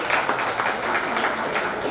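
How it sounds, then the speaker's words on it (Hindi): Applause for the organisers at a college reunion, a dense steady clapping from a gathered crowd, fairly close and with no talk. "इनके लिए एक बार जोरदार ताली बजाएं, इनका स्वागत करें"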